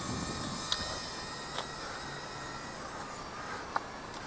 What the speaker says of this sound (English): So neat little drone.